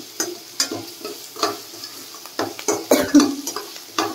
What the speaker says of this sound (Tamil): நல்லா ஆனியன் நல்லா கொஞ்சம் ப்ரௌன் வர மாதிரி வதக்கிங்கன்னா கொஞ்சம் டேஸ்ட் நல்லா இருக்கும்.